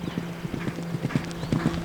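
Horse hooves clip-clop in a brisk, steady rhythm on the cross-country course of the Jersey Fresh three-day eventing competition at the Horse Park of New Jersey in Allentown, close and clear.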